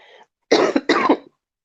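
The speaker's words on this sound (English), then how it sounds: "this cough is just ridiculous" A person with a respiratory infection coughs twice in quick succession, loud and close, after a brief faint sound, with silence at the end.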